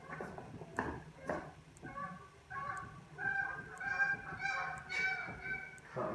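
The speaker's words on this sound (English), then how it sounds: "You got a bunch of geese flying by honking." A flock of geese flying past honks repeatedly in overlapping calls, moderately close and growing denser, with a few short sharp knocks early on.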